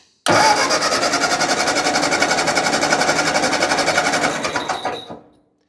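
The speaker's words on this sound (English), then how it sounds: "you reach over here and hit the starter. Let's give it a little bit of choke." An old tractor engine cranks on its starter with the choke partly on, a loud steady rhythmic churning for about five seconds that never catches, then stops.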